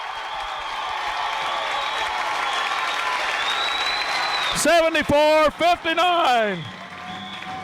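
A high school boys basketball crowd roars and applauds at the final buzzer of a sub-state game, a loud sustained cheer in a gym under an announcer's voice, broken near the end by a long blaring horn.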